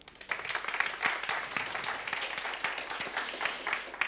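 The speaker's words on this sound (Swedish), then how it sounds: "Men först tycker jag en applåd." Audience applause at a Swedish panel discussion on the housing crisis, a steady wash of many hands clapping throughout, moderately loud and continuous without talk.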